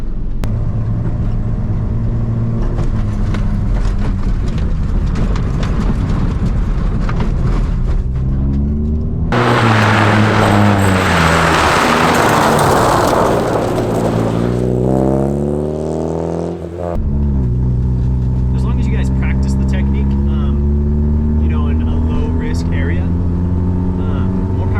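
A car skids through a pendulum turn, its engine droning and revving, then a loud burst of tyre screech and rushing noise in the middle before the revving engine settles again, close and dominant throughout.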